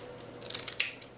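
Scissors snip through folded ribbon for a Dollar Tree fall wreath, three quick crisp cuts close by with no talking.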